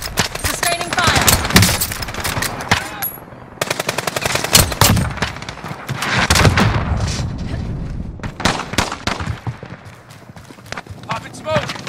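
Sustained automatic gunfire in Call of Duty Warzone, loud dense bursts of rapid shots with heavier booms, continuing across the whole stretch with game voices speaking between and under the fire.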